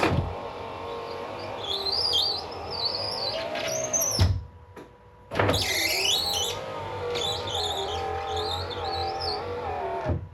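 A Mazda Miata's power window motor, with worn window bushings, whines and strains slowly for several seconds, stops briefly, then starts again; close, with no talking.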